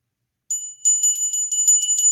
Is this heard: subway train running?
no